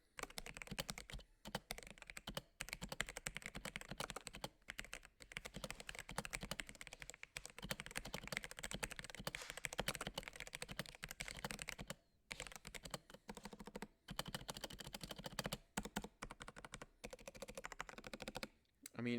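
Rapid typing on a cheap $30 keyboard with plastic bags stuffed inside as a mod, a close, continuous clatter of key presses broken by brief pauses.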